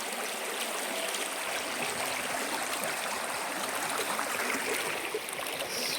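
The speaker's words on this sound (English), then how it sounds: "stream means there should be some river, since it's summer, it looks like a stream than a river" Forest stream in the Western Ghats in summer, flowing in a continuous rushing, burbling wash that stays steady and fairly loud throughout, with no voices.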